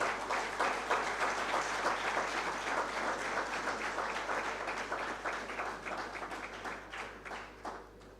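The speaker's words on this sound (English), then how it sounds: "Can I request that we clap for our platinum sponsor" Conference audience applauds a platinum sponsor at an insurance brokers' gathering in Uganda, a dense steady wash of many clapping hands from a large crowd that thins slightly toward the end.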